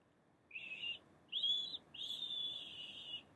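A person whistling weakly: three short, thin breathy notes, close and quiet, separated by brief pauses.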